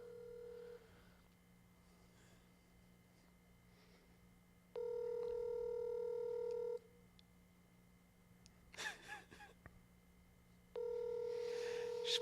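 Telephone ringing for an incoming call: two long, loud, steady electronic ring bursts separated by a quiet gap holding a brief rustle, with a faint steady hum underneath and no talking.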